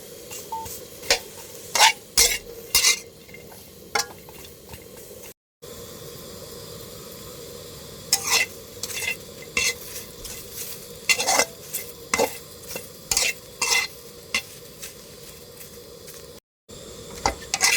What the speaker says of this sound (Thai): คนเราต้องนำเครื่องมาคั่วก่อนนะคะ